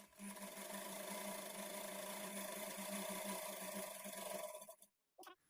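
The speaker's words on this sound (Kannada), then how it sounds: "ಈ ಫ್ಯಾಬ್ರಿಕ್ಕು ಒಂದು ಕಡೆ ಎಡ್ಜು ಒಂದು 1/2 ಇಂಚ್ಗೆ ಈ ಥರ ಫೋಲ್ಡ್ ಮಾಡಿಕೊಂಡು ಸ್ಟಿಚ್ ಮಾಡ್ಕೊಳ್ಬೇಕು." A sewing machine stitches a fabric edge folded over by half an inch for a lined blouse, a loud steady motor hum running close and alone for about five seconds before stopping abruptly, followed by a brief knock.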